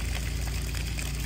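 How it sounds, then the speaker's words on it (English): Pumped water rushing through a downstream injector, a brief, steady, loud gushing flow with no voices. "Now it's obviously running through the injector."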